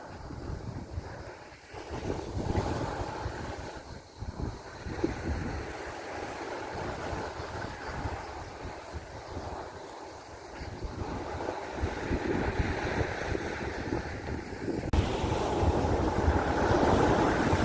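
Steady wind buffets the microphone over a continuous wash of Tyrrhenian Sea waves, a constant roar with no voices.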